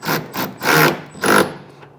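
A power driver with a half-inch socket tightens a bolt while installing a roll-up tonneau cover on a pickup truck, whirring in four short, close bursts with brief pauses between them.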